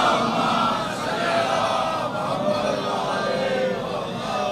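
Crowd at a majlis chanting salawat together aloud, a dense continuous murmur of many voices at steady loudness filling the space.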